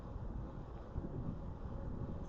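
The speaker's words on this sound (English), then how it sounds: "a gentle breeze, definitely some wind though." Light wind buffets an action-camera microphone aboard a Concord 27.5 sailboat, a soft, steady rumble with no voices, faint and continuous throughout.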